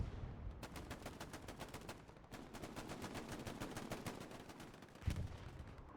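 Rapid bursts of AK rifle fire crackle in the video game Hell Let Loose, a fast, repeated rattle of shots over faint battlefield background, with a heavier thump near the end.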